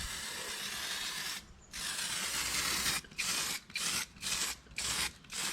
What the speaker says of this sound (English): I'm just going to hit this where I've just cleaned up with the weld through primer. It's copper spray, so it's conductive